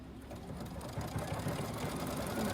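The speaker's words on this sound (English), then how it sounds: "We're just gonna stitch this other side." A sewing machine runs steadily, stitching pintucks on a fabric clasp purse, with a close, even mechanical whir and rapid needle clatter and no talking.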